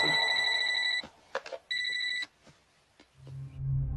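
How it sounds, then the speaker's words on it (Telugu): A telephone bell rings in two loud bursts with a pause between, followed by clicks and a low rumble as it stops, in a film scene. "నానాజీకి ఫోన్ కొట్టు"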